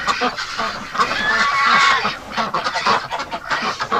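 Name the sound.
hungry wintering ducks and geese calling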